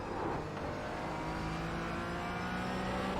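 Race car engine in a racing video game, a steady moderate whine of the motor accelerating as the throttle is fed in, with a faint rise and no talking over it.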